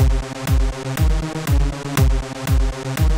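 A punchy kick drum thumps steadily about twice a second while a sustained synth holds an even level between hits, tight and controlled.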